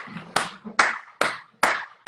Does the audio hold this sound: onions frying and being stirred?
no